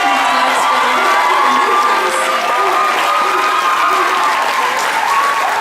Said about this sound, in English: Give them a round of applause to your staff.